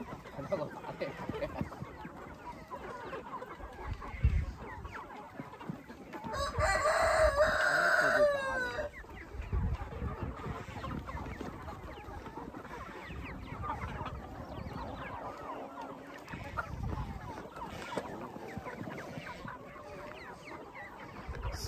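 Free-range chickens cluck around a rural yard while a rooster crows loudly mid-way, with hens and roosters being chased and caught; people talk intermittently under the scattered, fairly close clucking.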